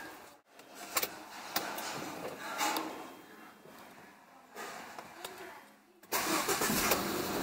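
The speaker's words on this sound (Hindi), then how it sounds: "अब हम इंजन को क्रैंक करके देखेंगे कि हमारा इंजन चालू हो रहा है या नहीं हो रहा।" A Tata Zest car engine is cranked with a brief starter whir, then catches and settles into a steady idle, heard close and moderately loud with small clicks and knocks around the car.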